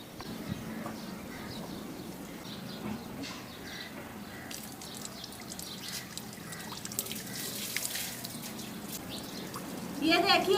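Water trickles and splashes steadily through a small irrigation channel in a village garden of chilli, tomato and guava plants, with birds calling faintly around it and someone talking over the flow.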